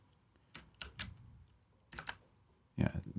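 Someone types on a computer keyboard in scattered clusters of quick clicks with pauses between, close and fairly crisp, ending in a denser run of keystrokes.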